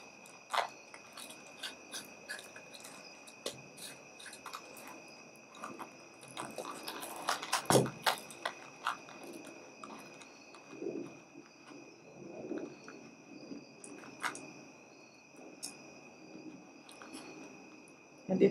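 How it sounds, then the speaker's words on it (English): Crickets chirp steadily in the night background, a thin continuous high trill under quiet indoor handling noises and faint soft sounds, with no clear speech. "you can hear crickets in the background because I am recording at night"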